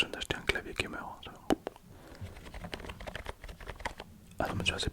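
Quiet, close clicking on a computer keyboard, with irregular bursts of keystrokes and a few sharper taps, under soft whispering in an intimate setting.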